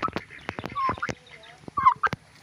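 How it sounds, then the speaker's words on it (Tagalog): An old turkey calls in short, rapid bursts of clucks and honk-like notes, close by, with a few higher squawks between them. "yan ang pinakamatandang turkey"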